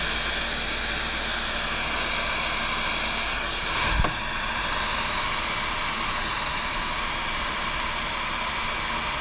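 A steady, loud blowing whir of a hot air gun heating an Asus Fonepad 7 touch display runs continuously with a brief bump partway through, no talking.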